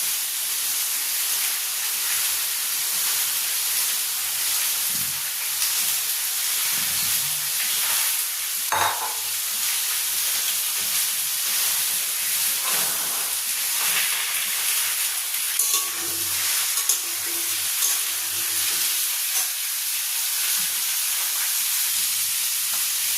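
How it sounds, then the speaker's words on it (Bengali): A spice masala fries in a pan, with a continuous close hiss and sizzle over a long stretch. Occasional scrapes and stirring noises break through the sizzle. "এবার আমি মশলাটা পুরোটাই এর মধ্যে আস্তে করে দিয়ে দেবো।"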